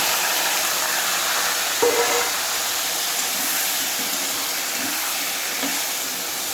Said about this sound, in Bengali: কচুর মুড়োগুলোতে আমি নুন হলুদ মেখে রেখেছি এখন তেলে দিয়ে দেবো